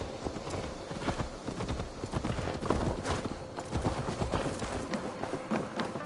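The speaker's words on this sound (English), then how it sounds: "Let's return the horse." Horse hooves clip-clopping in Assassin's Creed Valhalla, a steady rhythmic stream of close hoofbeats on hard ground with game ambience behind, no speech.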